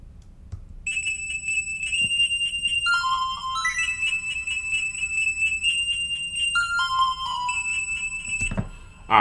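A filter synth preset in Logic Pro X sounds bright, electronic, sustained tones that step through a simple chime-like melody over a faint low hum, with a brief noisy burst near the end.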